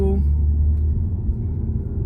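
A 2022 Genesis G70 Launch Edition in Sport Plus manual mode pulls away in second gear, its engine giving a deep, steady low rumble from inside the cabin.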